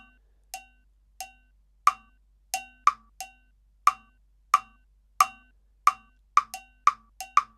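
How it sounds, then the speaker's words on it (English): Crisp metronome clicks tick out a rhythmic scale over three, the clicks grouping ever more tightly with louder accented beats, all close and clean against silence. "And this click is actually still accenting every 4th note, so you have other possibilities there."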